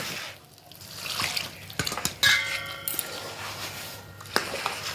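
Water trickles and drips little by little into a bowl of banana pitha batter made with Singapore bananas, giving quiet splashes with a few sharp clinks and taps of a utensil, close by.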